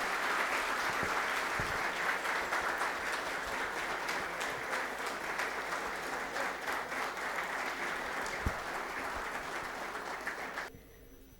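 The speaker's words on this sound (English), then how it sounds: "let's have a round of applause for our guests for today" A seated audience at the Ahmedabad Management Association in Ahmedabad applauds guests at a youth dialogue inaugural ceremony, with sustained dense clapping that gradually thins before stopping abruptly near the end.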